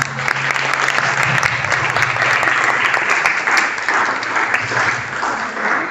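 Hearty audience applause greeting a newly introduced beauty product at a presentation, a dense, even wash of clapping that holds steady, with a faint low hum underneath.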